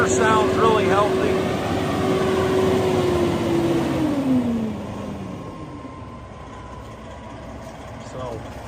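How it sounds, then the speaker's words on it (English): A 2009 Freightliner Columbia 120 day cab truck with a Detroit 60 diesel engine runs close by, a steady rumble with a falling whine as it settles to a lower idle. "Motor sounds really healthy."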